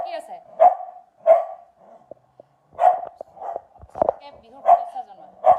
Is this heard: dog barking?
yes